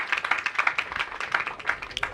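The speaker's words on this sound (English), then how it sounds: "let's clap for Jugal Goyal once again" Audience applause at a moot GST tribunal hearing, steady hand clapping from a modest group in a room, lasting a couple of seconds without talk.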